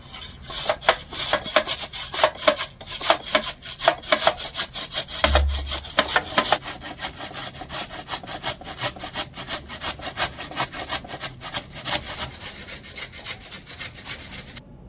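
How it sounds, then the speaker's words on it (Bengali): Raw peeled carrot rubbed against a kitchen grater, a steady run of quick rasping strokes, close and fairly loud, with no talk over it. "এবার আমি এই গাজরটা এখানে একটা গ্রেটার নিয়েছি গ্রেটার দিয়ে একটু গ্রেট করে নেব"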